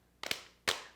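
Two crisp hand claps, close and clear, spaced a little under half a second apart in a quiet room.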